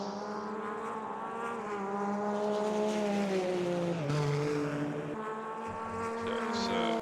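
GT1 race cars lap Brands Hatch with a loud, close engine whine that climbs through the gears, dips and climbs again as another engine note overlaps.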